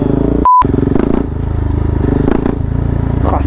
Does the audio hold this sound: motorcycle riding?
yes